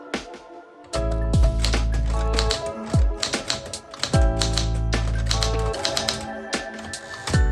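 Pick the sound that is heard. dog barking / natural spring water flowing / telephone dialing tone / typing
typing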